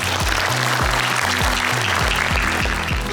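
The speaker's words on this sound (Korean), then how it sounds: "뜨거운 박수를 부탁드리겠습니다" Warm applause from a crowd at a sports team's closing ceremony after a provincial athletic meet, a dense steady clapping that fills the short stretch at full volume.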